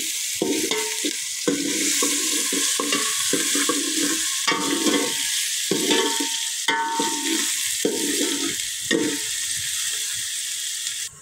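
Onion frying in oil in a home kitchen pan, a steady broadband sizzle with repeated scraping stirs every second or so, close and fairly loud, no voices.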